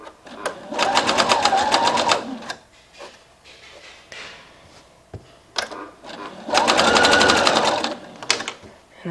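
A sewing machine runs gathering stitches through fabric in two bursts of fast, steady whirring and needle rattle, separated by quieter handling noises, close up.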